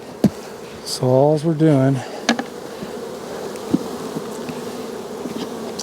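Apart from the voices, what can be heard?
honey bee colony buzzing while hive box is lifted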